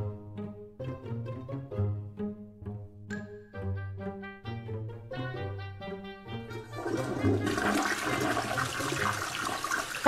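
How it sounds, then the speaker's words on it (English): A toilet flushes a credit card away, starting with a few musical tones before a loud rushing swirl of water takes over and builds to the end. "Now, it's time to flush down my dad's credit card down the toilet."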